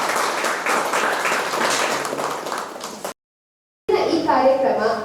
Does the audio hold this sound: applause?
yes